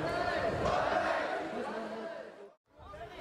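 A crowd of over 20,000 people at an anti-deportation rally in Tel Aviv, a dense, steady roar of many voices with chanting that cuts off abruptly near the end before the noise resumes.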